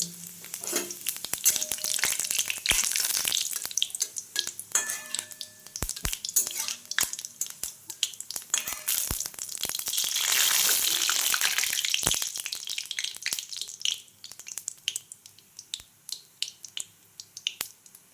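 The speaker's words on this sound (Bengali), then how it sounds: "এরপর এখানে আমি দিয়ে দেবো দুটো শুকনো লঙ্কা, আর দেব দুটো তেজপাতা, আর দেব অল্প পরিমাণে গোটা জিরে।" Dried red chillies, bay leaves and whole cumin fry in hot oil, a busy sizzle with crackling pops and spatters that swells in the middle and thins out toward the end, with no speech.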